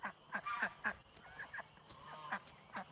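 A handful of ducks in a swamp give short, nasal honks in quick bursts, several calls close together, fairly near but not loud.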